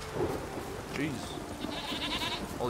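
Goats bleat several times amid a rumbling, rainy background in The Witcher 3: Wild Hunt, with people talking over them.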